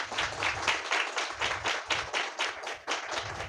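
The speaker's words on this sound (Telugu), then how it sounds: "అది గట్టిగా చప్పట్లు కొట్టు" A church congregation at Sunday worship claps loudly in a steady, rapid rhythm, with crisp bursts repeating throughout and no voices.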